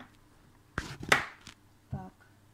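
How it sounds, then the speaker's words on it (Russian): A few sharp knife chops slicing zucchini into rounds on a cutting board at irregular intervals, crisp and close, with quiet pauses between strokes. "кабачки мы помыли и нарезаем вот таким образом"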